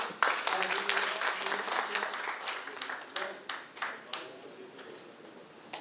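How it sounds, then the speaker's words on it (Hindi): An audience applauds at a Diwali gathering of a senior citizens' cell at the Delhi BJP office, with steady dense clapping that keeps rising and falling while a voice carries on faintly underneath. "रामदास जी मेरे सहयोजक एक बार खड़े हो जाइए जोरदार तालियों से।"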